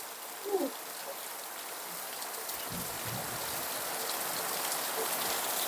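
Dense, steady hiss of heavy rain pouring down, constant and enveloping, with a brief faint voice-like sound near the start.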